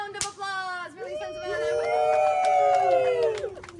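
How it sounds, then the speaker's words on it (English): A small group on a ghost-hunting tour in Hollywood breaks into drawn-out whoops and cheers with a few scattered claps, the voices rising and sustained near the end. "round of applause for Lisa"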